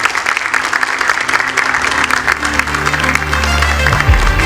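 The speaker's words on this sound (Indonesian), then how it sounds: "Kita berikan tepuk tangan." A crowd at a stage event for a university student council bursts into loud, sustained applause, with a low steady hum underneath.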